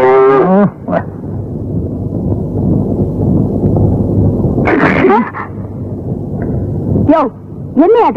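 A cow moos loudly and close at milking time, with a long, sustained low bellow through the middle and shorter rising calls at the start and end.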